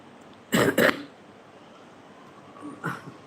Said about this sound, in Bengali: অনেক কাশি